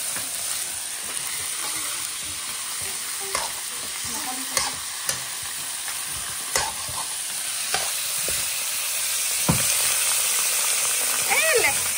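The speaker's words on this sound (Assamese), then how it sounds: "মাংসখিনি অলপ ফ্ৰাই কৰি ললো" Pieces of chicken frying in a pan, a steady loud sizzle running throughout with scattered clacks of a spatula stirring the meat.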